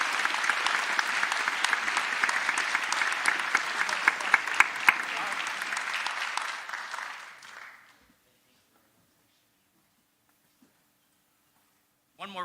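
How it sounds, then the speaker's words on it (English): An audience at a school endowment awards assembly applauds, a broad, sustained clapping for about seven seconds that fades out into silence, followed by a brief voice at the very end. "So please give them a round of applause."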